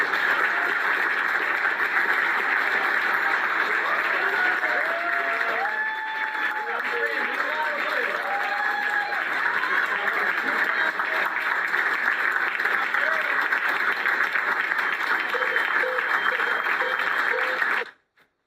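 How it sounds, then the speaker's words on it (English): A large audience applauds Merrick Garland with steady, sustained clapping that fills the room at an even loudness, with scattered whoops and voices mixed in, then stops abruptly at the end. "And people are clapping for him"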